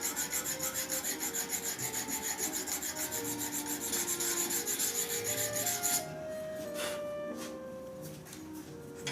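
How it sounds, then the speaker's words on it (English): A diamond card rubs back and forth over a hollow-ground blade to sharpen it, making rapid, even rasping strokes that fill the first six seconds, then a quieter scraping with a faint ringing tone. "I'm just going to sit my diamond card on the 2 end points and just give it a couple of rubs"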